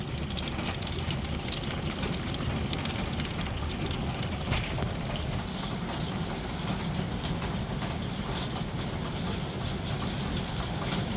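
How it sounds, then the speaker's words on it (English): Rain mixed with hail hammers down steadily on a campsite, a dense, loud and unbroken patter with sharper hail ticks scattered throughout and no voices. "Rain and hail."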